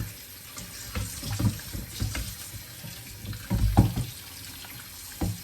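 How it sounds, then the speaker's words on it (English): Tap water runs over raw chicken pieces being rinsed in a sink, a close, steady splash that swells in uneven bursts as the pieces are turned under the flow. "I'll just run some water over it"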